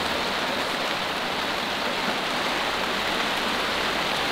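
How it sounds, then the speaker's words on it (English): Steady, even rain beginning to fall around a camping trailer, a dense close hiss with no voices and no pauses throughout. "Alright, so starting to rain."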